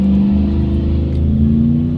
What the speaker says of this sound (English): It's like a really old truck too